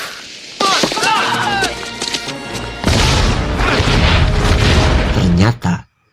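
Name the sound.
dynamite explosion in animated story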